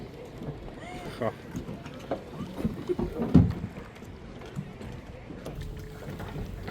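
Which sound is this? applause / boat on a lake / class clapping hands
boat on a lake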